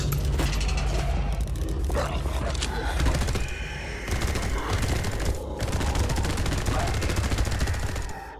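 Sustained rapid gunfire in the VR zombie shooter Arizona Sunshine, dense volleys of shots running almost continuously at close range and loud, with brief gaps between bursts and no talking over it.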